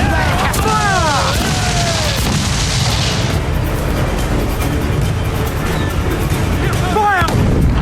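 Ship cannons boom in a naval battle in Assassin's Creed IV: Black Flag, loud continuous blasts and rumble under shouted crew orders, with sharp whistling shots near the start and again near the end.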